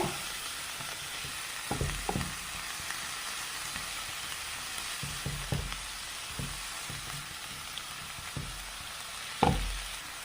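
Bitter gourd stir-fry, a Kerala pavakka thoran, stirred in a hot pan, with soft continuous frying hiss and repeated spatula scrapes and knocks coming in irregular bursts, close up and alone, one sharper clatter near the end.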